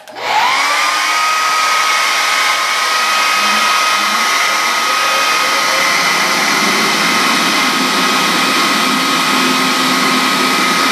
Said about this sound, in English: Let's hit it with the blow dryer too, just to kind of dry some of it up.